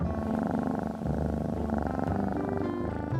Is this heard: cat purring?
yes